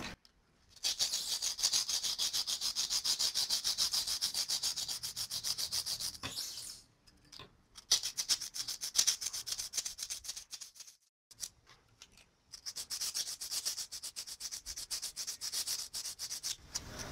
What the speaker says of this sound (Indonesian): Kita ampas dulu bagian tembaganya agar hilang kotorannya